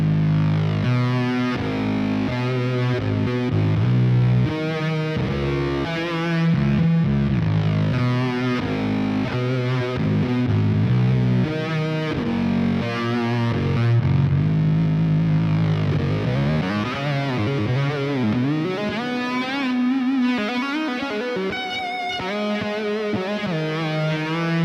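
Cone Buster synth preset from Archetype: Rabea runs through a high gain amp, giving a loud, sustained, heavily distorted tone with shifting swells and sweeping pitch bends, no talking.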